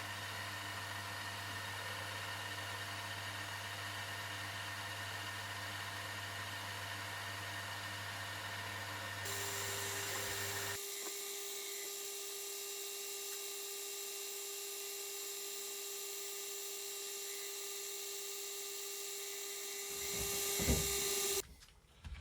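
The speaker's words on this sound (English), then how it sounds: "the drill can find its own centre within that spot that I've already drilled" A steady high-pitched drill whirs continuously at close range, drilling a hole in a dagger handle, its tone changing partway through, then a short clattering burst at the end.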